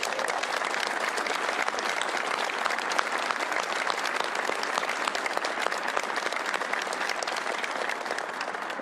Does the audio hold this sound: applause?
yes